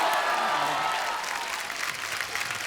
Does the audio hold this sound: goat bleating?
no